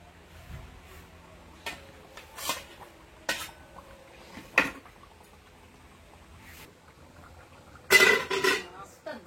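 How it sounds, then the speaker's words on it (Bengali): Fish going into a curry pot and a lid being set on it, heard as scattered metallic clinks and taps of pot and utensils, with a louder clatter near the end and speech present. "মাছটা দিয়ে একটু ঢেকে দিলাম"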